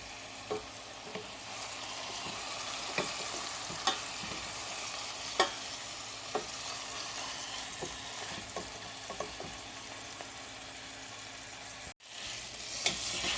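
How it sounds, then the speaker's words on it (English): Pork sizzles steadily as it browns in a pan with onions, a close, continuous frying hiss broken by occasional clicks and scrapes of tongs, with one sharp knock near the end; no speech. "Alright, so I've been just letting this brown on one side. Move the onions around a little bit."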